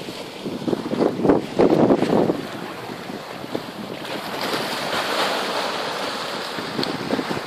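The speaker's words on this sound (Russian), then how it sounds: "И так сидишь, смотришь на море, на волны, на горизонт." Sea waves washing against a rocky shore, a steady rushing surf with stronger surges near the start, mixed with wind buffeting the microphone; no voices.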